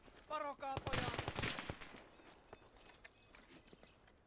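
A Maxim machine gun fires in the Gates of Hell Finland campaign, a fast burst of sharp rattling shots up front, then scattered distant battle pops fading out.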